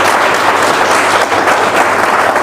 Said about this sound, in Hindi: एक बार जोरदार ताली बजा दीजिए इस इंडस्ट्री के लिए।